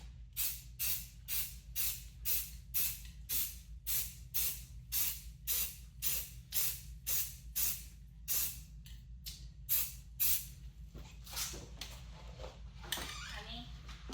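Spray can laying a base coat of paint on rifle magazines in a garage, about twenty short rhythmic hissing bursts in a row, then a child and an adult talking briefly at the end.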